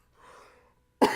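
A man gives one short, harsh cough close to the microphone, preceded by a faint breathy sound.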